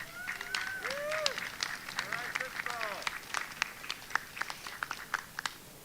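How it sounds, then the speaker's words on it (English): Graduating student honored at a 2021 high school graduation ceremony with applause and scattered cheers from the crowd, claps spreading and thinning into sparse individual hand claps over several seconds. "Let's give a great round of applause for Crystal Quiros Portillo."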